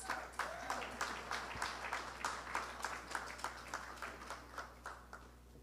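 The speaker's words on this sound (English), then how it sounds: "Round of applause, please." Scattered audience applause fills a room at the Caribbean Broadcasting Union's 35th Caribbean Media Awards, steady and moderately distant, with individual claps standing out in a loose rhythm.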